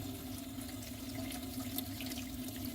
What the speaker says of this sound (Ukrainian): І гарненько промити водою. Я промиваю теплою водою.